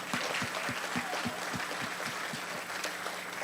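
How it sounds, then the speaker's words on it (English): Audience applause at a school morning news event for Golden Apple Award recipient Mr. Spears, with a few distinct, regularly spaced claps standing out over a softer steady patter. "Let's give him a round of applause for that."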